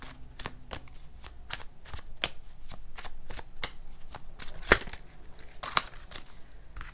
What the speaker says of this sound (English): We're going to shuffle up and we're going to draw